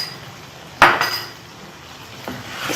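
Fried onions, garam masala and nutmeg-mace powder go into a cooking pot for khoya korma, with one sharp metallic clank followed by a few lighter clinks of utensil against pot in a quiet kitchen.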